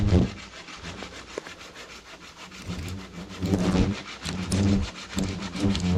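Rhythmic back-and-forth rasping of a handsaw cutting through wood, strokes coming steadily and growing a bit louder, close up with no voices.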